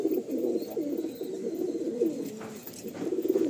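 Madrasi pigeons, a male and a female, coo steadily and close by while held in the hand, with low repeated cooing phrases that carry through the whole stretch without pause.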